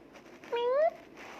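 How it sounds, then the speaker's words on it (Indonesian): A sleepy pet cat gives a single clear, rising meow close to the microphone, lasting about a third of a second, with quiet room noise around it. "gue lagi ngegemesin kucing gue guys"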